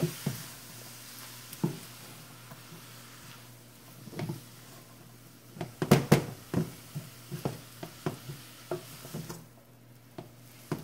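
Grilled chicken with garlic and peppers sizzling in an open, uncovered pan, a soft steady fry broken by sharp clicks and scrapes of a utensil stirring against the pan, with a busier cluster of knocks in the middle.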